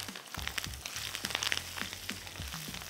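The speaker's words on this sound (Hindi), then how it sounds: "बस एक साथ चारों चीज़ें शामिल कर दें तड़के में।" Whole red chillies, mustard seeds, cumin and garlic sizzle in hot tadka oil for bhagaray dahi baray, a steady crackling fry with sharp pops scattered throughout, close and moderately loud with no talking.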